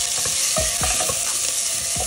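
Sliced onions dropped into hot mustard oil with cumin in a pressure cooker, hissing in a steady loud sizzle with a few soft stirring knocks, close up, no voices.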